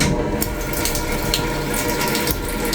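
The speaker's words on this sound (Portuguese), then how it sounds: "aqui sai a água" Water runs steadily from an automatic tap in a public toilet, a continuous close hiss and splash into the basin with no pauses.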